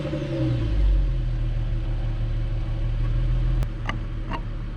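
A stock-exhaust 3.7-litre engine in an Infiniti Q50 settles into a quiet, steady low idle, with a soft rise in rumble early on and a few brief clicks near the end.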